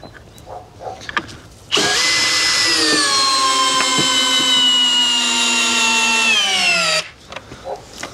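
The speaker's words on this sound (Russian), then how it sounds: "У нас вот шуруповерт, бита на 13, и закручиваем." A cordless screwdriver fitted with a 13 bit drives a screw into a timber batten while facade cladding battens are installed, a loud whirring run of about five seconds that ends abruptly, with faint knocks before and after.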